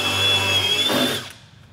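A power drill drives pocket screws into the wooden framing of a small backyard horse pole barn. The motor whirs loudly and steadily for about a second, then stops.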